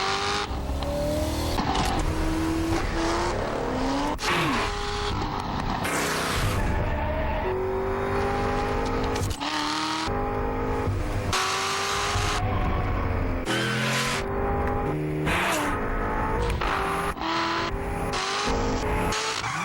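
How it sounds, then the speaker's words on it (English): Racing cars from the Gran Turismo game on PSP roar and rev continuously, with engines climbing through gear shifts and occasional tire squeal, loud and close throughout with music-like layered tones and no talk. "Real portable racing has arrived."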